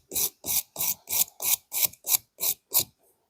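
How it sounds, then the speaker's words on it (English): A wire brush scuffs the painted surface of a restored Baby Wilton vise in nine even, rhythmic strokes about a third of a second apart, close and crisp, then stops. "I'm going to come back with this wire brush next to it and kind of scuff up the area as well."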